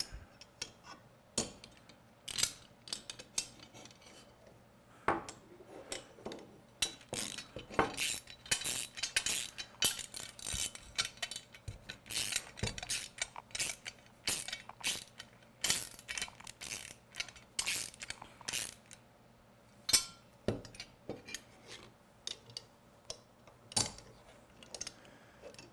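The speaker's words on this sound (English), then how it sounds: "now we definitely need that wrench" A wrench turns a bolt on a vehicle, giving a long series of close, sharp metallic ratcheting clicks and clinks in irregular bursts, with short pauses between runs and no speech.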